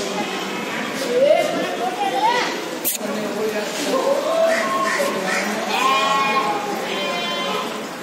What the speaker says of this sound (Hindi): ये भी खस्सी बकरा है।